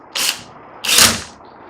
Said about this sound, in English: the clutch disengaged